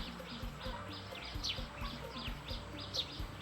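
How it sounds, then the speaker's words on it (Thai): Birds call repeatedly over rice fields where cormorants wait to catch fish, a steady series of bright chirping notes at an even rhythm over a constant ambient hum. "นี่คือนกกาน้ำนะครับ"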